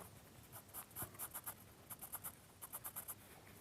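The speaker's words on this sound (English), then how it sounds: "So still with a HB pencil." An HB pencil sketches on paper in quick vertical strokes, giving soft, faint scratchy rasps in short clustered bursts with small gaps, close and quiet over a low room hiss.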